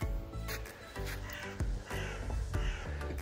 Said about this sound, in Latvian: Putniņi dzied